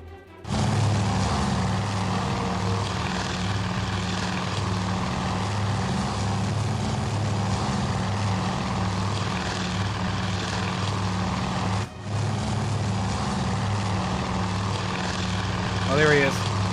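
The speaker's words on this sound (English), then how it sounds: "One aircraft. One aircraft." Propeller aircraft drone steadily in the Task Force Admiral naval combat game, a loud, continuous engine rumble with a brief dip midway, while a voice speaks over it.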